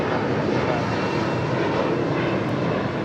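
A United Airlines Boeing 757-300 comes in to land at LAX, its steady, loud, broadband engine roar filling the whole stretch without a break.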